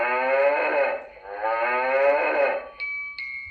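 A cow's moo from an animal sound book: two long, loud mooing calls one after the other, followed by two short electronic chime tones, with no talking.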